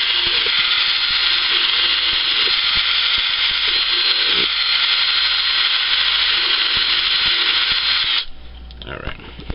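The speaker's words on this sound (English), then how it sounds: "let's go ahead and drill this thing here" A power drill drilling into plastic containers whines steadily at high speed for about eight seconds, then slows and stops, leaving faint clicks and handling noise.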